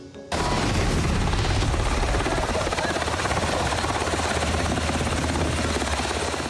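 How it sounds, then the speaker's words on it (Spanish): An official helicopter passes overhead, its loud, steady rotor thump and engine roar starting abruptly and filling the whole stretch without pause, close and dominant with no talk over it. "Ni la oleada que causó el sobrevuelo de un helicóptero oficial los detuvo"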